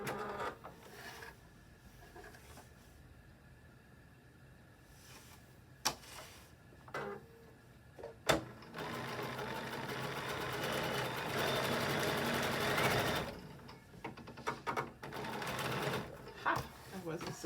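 A sewing machine gathers fabric in a loud, continuous whirring burst of several seconds, framed by quieter stretches with clicks and a person talking.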